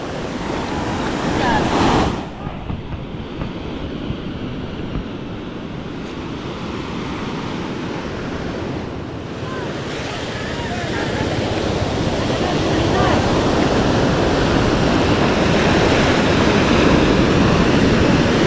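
Heavy surf pounds a beach at a river mouth where someone drowned; a roaring wash of breaking waves and wind buffeting the microphone runs continuously and grows louder toward the end.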